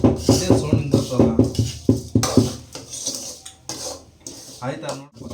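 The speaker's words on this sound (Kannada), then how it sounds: "ಶಾವಿಗೆ ಒಗ್ಗರಣೆ ಮಾಡ್ತಾವನೆ, ಅಲ್ಲ ಹುರಿತಾವನೆ, ತುಪ್ಪದಲ್ಲಿ ಹುರಿತಾವನೆ" A metal spatula scrapes and clinks rhythmically against a pan as vermicelli is roasted in ghee, a quick series of sharp strokes followed by slower, scattered stirring knocks, up close.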